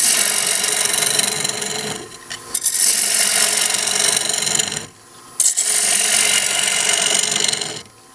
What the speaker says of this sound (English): I'm actually cutting with the nose of the gouge